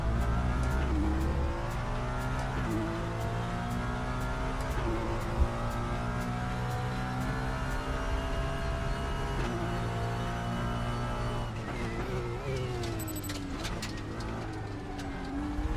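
A Porsche race car in a racing video game drones past with a steady, rising engine note and shifting harmonics, fairly loud and continuous, with no talking.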